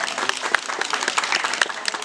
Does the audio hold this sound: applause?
yes